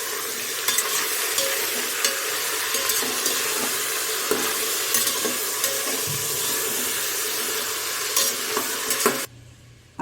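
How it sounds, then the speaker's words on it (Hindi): Mutton pieces fry loudly in ghee while being stirred, a constant crackling sizzle punctuated by scraping knocks, then dropping away abruptly to quiet just before the end. "घी में इसको अच्छे से भुनेंगे।"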